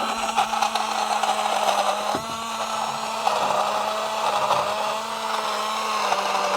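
A blender whirring steadily as it mixes a boiling-hot mixture, a loud continuous motor drone with a brief dip partway through, no voices.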